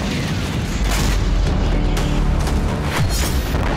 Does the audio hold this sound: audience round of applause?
no